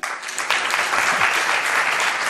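An audience at a Toledo talk bursts into loud, dense applause for an archaeologist, steady clapping from many hands throughout.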